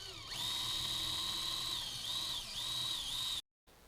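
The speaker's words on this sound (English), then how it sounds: "We're going to drill through this rubber grommet to the right of the wires to feed the camera cable through." A drill whines steadily while boring through a rubber grommet in the engine bay of a BMW F10, a close, high-pitched tone that dips and rises briefly twice before cutting off abruptly.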